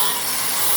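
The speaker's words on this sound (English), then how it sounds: "we are going to rectify as this way by use grinder" An angle grinder sands down an aluminum weld joint between aluminum sections on a construction job, giving a steady, close, bright hissing grind throughout with no talking.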